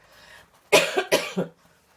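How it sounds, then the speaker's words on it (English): A few harsh, close coughs in quick succession, loud against an otherwise quiet background. "Sorry, I have to cough."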